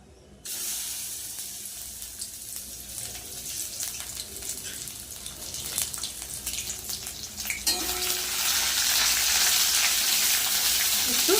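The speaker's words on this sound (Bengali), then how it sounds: "কড়াইতে তেল দিয়ে দিয়েছি তেল কিন্তু গরম হয়ে গেছে পাতাটা কড়াইতে দিয়ে দেবো" Bottle gourd leaf paste frying in hot oil in a wok, a steady crackling sizzle throughout that grows louder and more intense in the final seconds.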